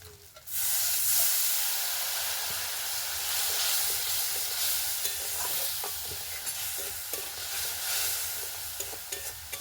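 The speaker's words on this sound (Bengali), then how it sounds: "এবার দেব অল্প জল," Water added to hot fried spices with rohu fish mince in a pan: a sudden loud hiss of steam bursting up, then a sustained bubbling sizzle with occasional spatula scrapes, close by.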